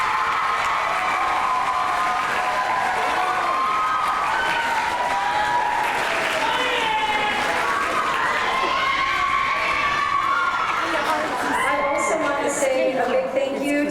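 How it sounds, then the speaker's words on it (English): An audience applauds at a school choir concert: sustained dense clapping with cheering and children's shouts, loud and continuous throughout, with voices mixed into the crowd noise. "would you please give a round of applause to our most excellent audience?"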